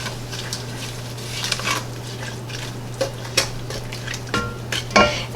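Orange pieces and sugar stirred in a pot for preserves, with a spoon scraping and clinking against the pot in uneven strokes over a low steady hum, close by and without talk.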